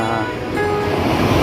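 Waves surging and breaking against rocks along a shoreline, a loud, close, continuous rushing wash with wind buffeting the microphone.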